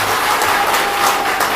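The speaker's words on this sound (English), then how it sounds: "please, let's give a round of applause to our member." A live-streamed gathering's audience gives a round of applause, an even, dense wash of clapping hands that holds at a steady level without a pause.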